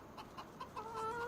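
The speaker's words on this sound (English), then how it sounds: "And I walked by the chickens. You can hear them clucking right now." Chickens cluck in the Farming Simulator 25 game, with faint rapid clucks followed by a longer, drawn-out call from nearby fowl.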